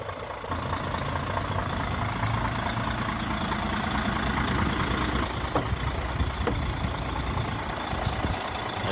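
A Mercedes-Benz Actros 2648 truck's engine runs steadily at a low, even rumble, close and continuous with no talk over it.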